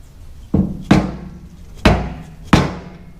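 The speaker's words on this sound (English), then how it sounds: "We just need to hammer on this side a little bit more and then we're in." Four heavy hammer blows strike metal at uneven intervals, each a sharp thud that rings briefly and fades, hammering a fuel tank into place on a 1964 Dodge Custom 880.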